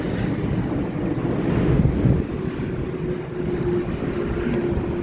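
Steady wind rushing and buffeting across an open microphone outdoors on a hot day, a continuous low roar that swells briefly, with no voices.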